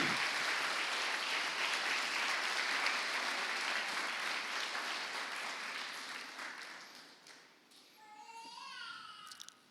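Church congregation applauding during a sermon, a broad roar of clapping that gradually fades, then gives way to voices with someone speaking near the end.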